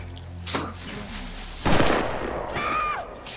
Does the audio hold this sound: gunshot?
yes